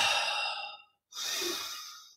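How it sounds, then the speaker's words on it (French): Two audible breaths taken during a vinyasa yoga session, a long airy exhalation fading out, a brief pause, then a strong inhale, close and alone. "J'inspire."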